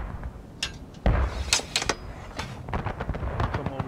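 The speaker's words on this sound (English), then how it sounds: "Then you gotta ram the round in." A round is rammed into a Civil War artillery cannon in the War of Rights game: a string of sharp knocks and thuds, one heavy hit near the middle, with a few lighter clacks after it, close and without voices.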